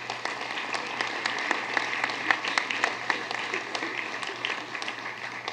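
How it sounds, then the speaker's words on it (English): Applause from a room of people at a school board meeting, honoring a girls' athletic team: steady, dense clapping with a few sharper claps, moderately distant, sustained evenly from start to end with no speech over it. "would you please give these girls a big round of applause"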